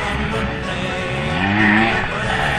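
A 2008 Gori 125 trial motorcycle climbing a steep rocky section, its engine droning and revving continuously, fairly loud and close, with faint crowd noise in the background.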